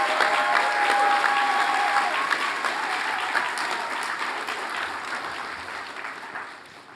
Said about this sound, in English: Please give a big round of applause for our scholarship recipients.